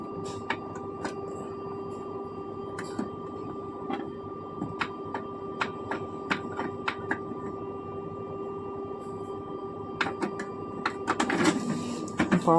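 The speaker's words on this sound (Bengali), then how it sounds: "এখন আমি একটা প্রিন্ট করব" A Canon printer that had a blinking red-light fault, now repaired, runs a copy: a steady mechanical hum under repeated clicks and ticks, building to busier feed noises near the end, with no talking.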